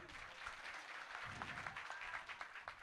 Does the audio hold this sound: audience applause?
yes